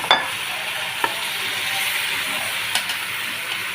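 Chicken with chopped vegetables and tomatoes frying in oil in a pan, a steady close sizzle with occasional stirring clicks and scrapes, no voices.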